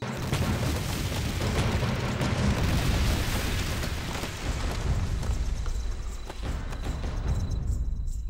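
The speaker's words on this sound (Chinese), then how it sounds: "没人开枪啊，我开的是炮。" A cannon fires in a kung fu action film, a loud, rumbling blast whose roar fills the scene and then slowly fades toward the end.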